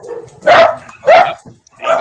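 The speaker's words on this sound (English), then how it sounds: "When I say Amanda's name, the dogs are always barking" Dogs barking in three loud, close bursts spaced about half a second apart, with faint yips between them and no talking over the barks.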